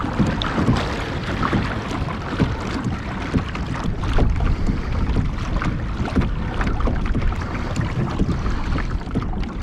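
Hobie Outback kayak gliding through open water, with a steady wash of water and wind buffeting the microphone throughout, paddle or hull splashes rising and falling in a continuous close rhythm.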